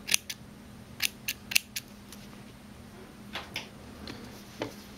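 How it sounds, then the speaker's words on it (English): Scissors trimming thread tails and excess binding on a Y-back racer tank top: a quick run of crisp snips, then a few softer, spaced cuts in a quiet room. "Trim my thread tails nice and close. Trim off the excess binding here."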